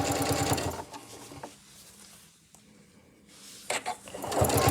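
A sewing machine stitches quilt binding in a fast, close mechanical whir. It stops for a quiet stretch in the middle, then starts up again and runs to the end.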